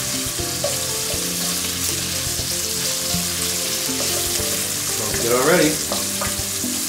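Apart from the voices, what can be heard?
bacon and garlic frying, splattering in pan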